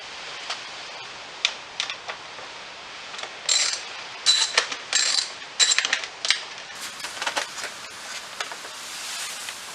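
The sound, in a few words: socket wrench undoing 10mm seat bolts on 2000 Honda XR200R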